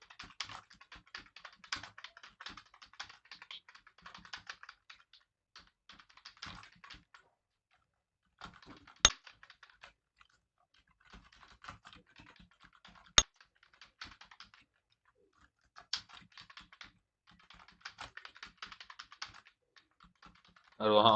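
Hindi being typed on a computer keyboard: steady bursts of light key clicks in uneven runs, with brief pauses and a couple of sharper single taps, fairly close and alone.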